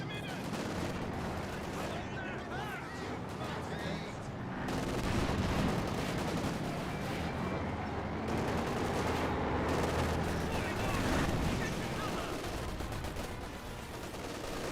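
Infantry gunfire in the video game Company of Heroes 2 crackles in dense, overlapping bursts and fusillades, a constant battlefield clatter that swells and eases without letup.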